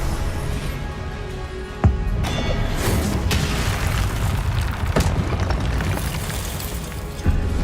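Booming spell blasts from Hogwarts Legacy combat, dense rumbling explosions with sharp impacts near 2, 5 and 7 seconds over a continuous roar of game action.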